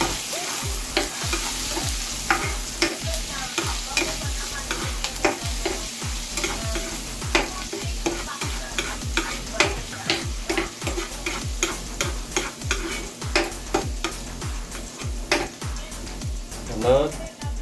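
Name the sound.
ginger frying in a pan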